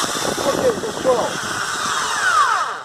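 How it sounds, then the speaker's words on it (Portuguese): A Bosch Super Hobby electric drill runs steadily up close, its motor whine rising and falling as the speed changes. "furadeira funcionando perfeitamente"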